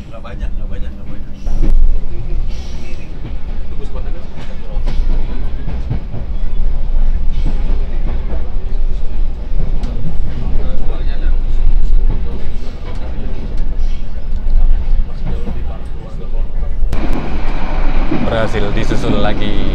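Heavy train rumble and rail noise run throughout, loud and continuous, from aboard an Argo Dwipangga express in Jakarta as it races alongside a KRL commuter train, with a brief louder surge near the end.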